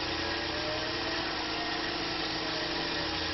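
A Tormach PCNC 1100 mills with a 3/8-inch, three-flute, zirconium nitride-coated Lakeshore carbide cutter, giving a steady, even machining whine and hum throughout.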